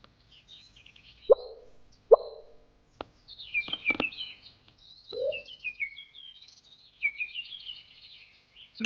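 Pet bird in a pet-raising video game sings a song of thanks: a run of bright chirps and warbling tweets, with a few soft plucked game tones at the start, close and clear with no talk.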